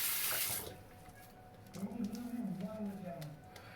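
Water runs from a tap for shaving lather, a soft, steady splash that starts with a brief louder gush, while someone talks quietly alongside it.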